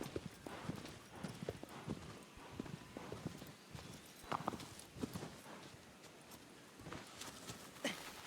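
A horse gallops in the video game Shadow of the Colossus, its hooves beating a quick, steady clip-clop rhythm, fairly faint and with no talk over it.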